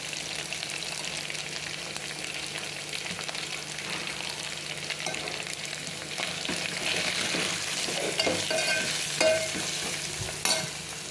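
Masala dal is stirred in a frying pan after turmeric goes in, giving a continuous sizzle with scraping spoon strokes that grow busier and louder toward the end; no voices are heard.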